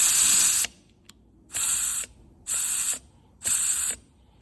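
Compressed air blasted into a Massey Ferguson 1250 tractor brake valve in four loud, hissing bursts about half a second each, separated by brief silent gaps, with a small click between the first two.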